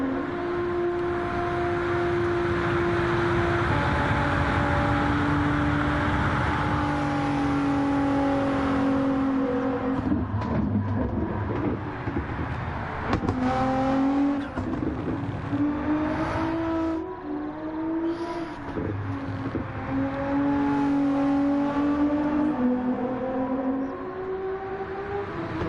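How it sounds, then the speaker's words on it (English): A race car engine in Gran Turismo 7 revs and drones through gear changes, pitch climbing and dropping with each shift and brief crackling pops on downshifts, loud and continuous across the lap. "you can hear what this thing backfires a lot, so you can definitely hear when I go down a gear"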